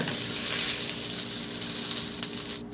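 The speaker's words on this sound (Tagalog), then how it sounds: "Sa disim na kawali, igisa ko na yung bawang." Garlic and onion sauté in a hot wok-style pan, a steady close sizzle with faint stirring scrapes throughout, fading slightly at the end.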